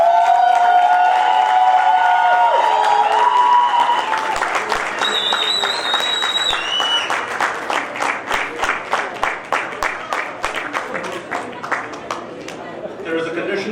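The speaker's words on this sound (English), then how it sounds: "The applause has to be very loud." A convocation audience bursts into loud, sustained applause as certificates are presented at a school of leadership ceremony. The dense clapping follows a brief spoken introduction and carries on unbroken with a rhythmic edge.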